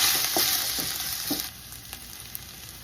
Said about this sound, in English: First, we're gonna stir fry our kreung.